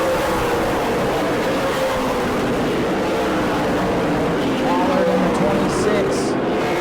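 Super late model stock cars race at New Smyrna, their engines roaring steadily as a continuous loud drone with a commentator talking over it.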